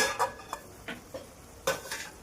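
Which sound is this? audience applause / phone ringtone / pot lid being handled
pot lid being handled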